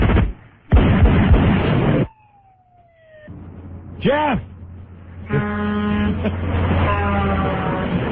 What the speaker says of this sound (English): Truck just went through your house